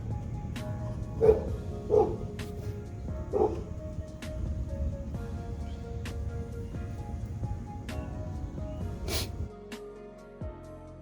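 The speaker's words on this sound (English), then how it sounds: "Got the dog barking at people" A dog barks a few times in short, separated bursts against a quiet indoor background, then a sharp knock and some rustling follow.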